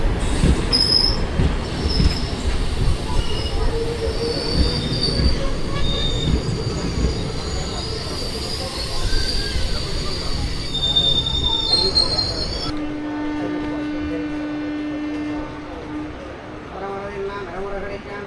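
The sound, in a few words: passenger train wheels squealing on rails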